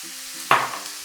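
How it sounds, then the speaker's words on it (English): Green beans, carrots and cabbage tossed into a hot pan for stir-frying, a sudden close sizzling hiss that flares up and then settles into a softer fry, no talking. "I'm going to go ahead and add in my remaining vegetables, from the green beans to the carrots and some cabbage."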